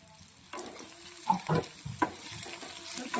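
Onion and garlic frying in a pan for a mixed greens curry, a soft sizzle with scattered stirring scrapes and clicks, fairly quiet and close, no voices.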